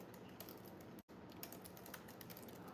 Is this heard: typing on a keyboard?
yes